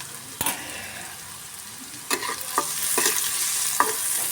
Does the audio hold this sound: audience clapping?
no